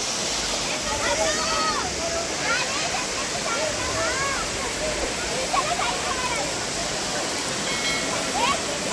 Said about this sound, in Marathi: बघा हे असं वाहतच राहतं आहे पाणी